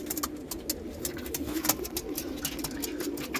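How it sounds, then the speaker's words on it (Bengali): A pair of young racing pigeons coo softly and repeatedly at close range, with faint clicks and rustles throughout and no talking. "পায়রা দেখুন"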